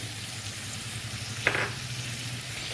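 Vegetables for pumpkin soup sauté in a pan with coconut milk, giving a steady, quiet sizzle, with one brief clink midway.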